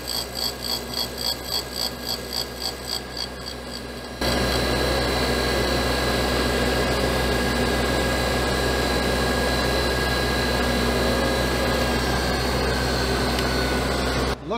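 A grinding wheel makes a spark-out pass on cast iron, a steady, loud whine and rushing hum after an initial stretch of rhythmic ticking machine noise, continuing evenly until it cuts off at the end.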